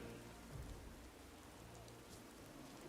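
Rain falling in a heavily modded game, a steady, faint broadband hiss of drops on surfaces with a soft low rumble near the start, no talk.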